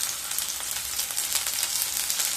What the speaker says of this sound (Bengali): মিডিয়াম স্টিমে উচ্ছেগুলোকে ভেজে নিতে হবে